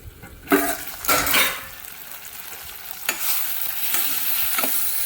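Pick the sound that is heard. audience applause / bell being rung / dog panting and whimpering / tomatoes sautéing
tomatoes sautéing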